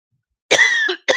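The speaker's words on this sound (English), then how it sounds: "Now my nose is running, I'm starting to cough." A single sharp cough followed by a short second burst, close and clear against silence.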